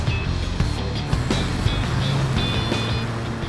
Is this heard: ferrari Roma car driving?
yes